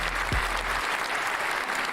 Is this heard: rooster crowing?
no